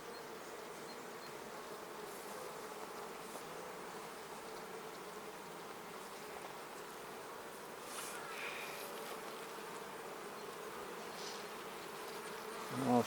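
Honeybees hum in a steady, dense drone during a hive inspection, a continuous close buzzing swarm that holds at an even level with no talk, ending in a brief louder knock.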